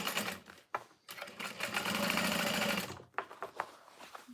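A sewing machine runs in two bursts, first short then long and steady, while stitching a fold-over bag with a 5 stitch length, followed by lighter handling clicks and rustles, close and fairly quiet with no talking.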